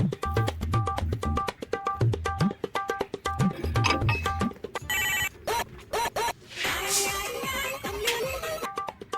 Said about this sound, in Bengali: দয়াকে একটা ফোন দিচ্ছি